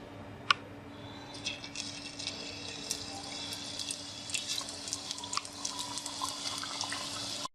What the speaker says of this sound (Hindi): ये देखिए हमारे समोसे फ्राई हो रहे हैं